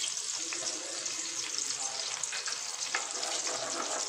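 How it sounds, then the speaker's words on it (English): Sausage and vegetables sizzling and crackling steadily in a hot pan, with occasional stirring scrapes and light pops. "While that is frying, we can add 1 egg each"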